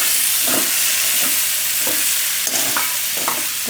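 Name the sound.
tomato frying in pan for Gujarati bateta bhaat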